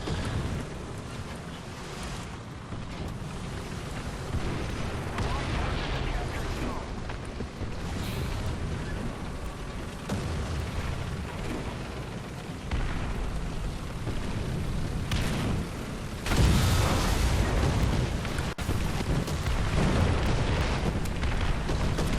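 Artillery fire and explosions in War Thunder ground battles roll as a continuous heavy rumble with booming blasts and a louder surge near the end, loud and dense throughout.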